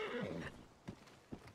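A horse in Red Dead Redemption 2 gives a loud, wavering whinny, followed by two soft hoof clops spaced apart.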